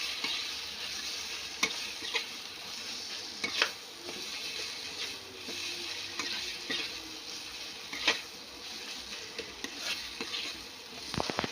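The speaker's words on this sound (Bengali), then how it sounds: "এই পর্যায়ে আমি দিয়ে দেবো গুঁড়ো মশলাটা। এটাকেও ভালো করে এর সাথে কষিয়ে নেব।" Ground spice masala frying in hot oil for a spicy red Lailontika fish curry, with a steady close sizzle and periodic sharp spatula scrapes and taps against the pan.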